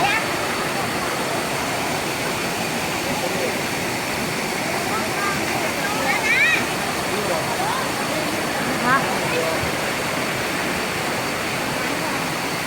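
Bull Falls waterfall in Chanthaburi, Thailand, roars in a steady, dense rush of water, loud and continuous throughout, with no pauses.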